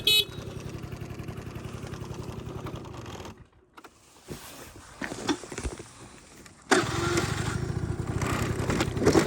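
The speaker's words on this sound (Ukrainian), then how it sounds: "З кнопочки заводиться все без ніяких питань." A Honda Dio AF-34 scooter starting on the button: a steady two-stroke idle, a brief quieter gap with knocks, then the small engine catches again and runs louder and evenly up close.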